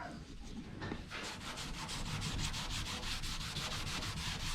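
Close, rhythmic rubbing with a cloth and grease remover scrubbing sticker residue off a Chevrolet floor panel, a quick series of even back-and-forth strokes that grows steadier and louder, no talking.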